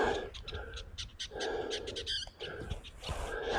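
Small birds give repeated sharp calls and chatter while mobbing a hawk over open rural acreage in California, the bursts moderately near, mixed with harsher caw-like cries over steady outdoor background.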